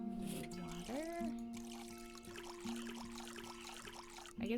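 Soft trickling and pouring water in a cozy video game as plants are watered, fairly quiet and steady under faint tonal game music.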